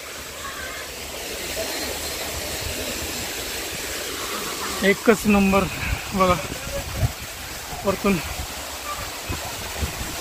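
Monsoon water pours down from above at Malshej Ghat in a constant broad rush, with people talking loudly over it in the second half.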